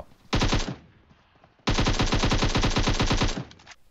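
Loud automatic gunfire close up in the video game PUBG Mobile: a short burst, a pause, then a long sustained burst of rapid shots.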